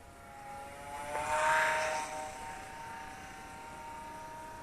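Eachine Mini P47 Razorback 500mm-wingspan RC plane flying, its small motor giving a steady whining drone that swells briefly as it throttles up through a turn, then settles back to a constant hum.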